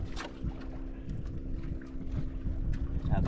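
A yacht draws up alongside another boat at sea, with a steady low engine hum, gusting wind and scattered knocks and splashes, close and continuous.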